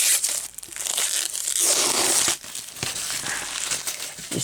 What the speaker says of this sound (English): Just unwrapping that.